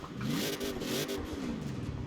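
A Rossion Q1 with a 7.2-litre racing V8, tuned to over 1,300 horsepower with all-wheel drive in Forza Horizon 4, revs loudly with a rising and falling engine note over about two seconds, close and continuous.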